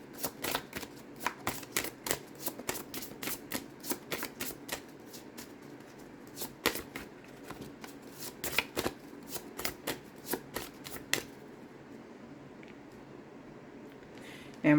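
Close, repeated shuffling of tarot cards with sharp papery flicks and riffles in an uneven rhythm, then a lull of quiet room tone toward the end.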